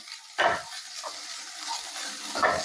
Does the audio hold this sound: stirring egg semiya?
yes